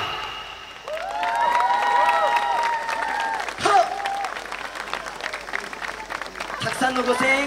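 A crowd applauds and cheers for a yosakoi dance team at Harajuku Super Yosakoi, with steady clapping and whistles throughout while a voice speaks over a loudspeaker.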